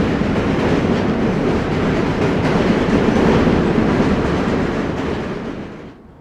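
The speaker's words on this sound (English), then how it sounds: "And here's the Manhattan Bridge and a subway passing by." A New York City subway train rolls across the Manhattan Bridge on a cold winter evening, a loud, steady rumble and clatter of wheels on rails that holds for several seconds, then fades away as it passes.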